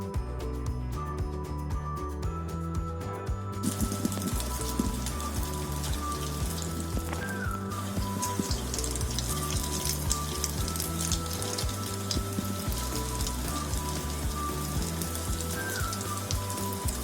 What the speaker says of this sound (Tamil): எண்ணெய் சூடு வந்ததுக்கு அப்புறமா ரெடி பண்ணி வச்சுக்கிற மாவை சின்ன சின்ன போண்டாவை எடுத்து விடணும்